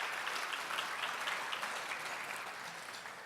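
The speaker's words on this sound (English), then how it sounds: "that deserves a big applause to our TEA" A conference audience at the TEA Summit applauds, a dense, steady wash of clapping that fades slightly toward the end, with no voices over it.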